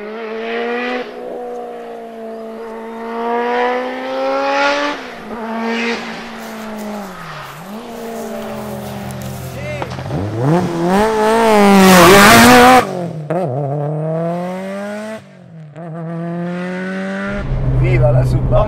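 A Subaru Impreza Spec C Type RA's engine revs and pulls hard through gears, rising and falling in pitch with sharp peaks, heard from inside the car while people talk and exclaim over it.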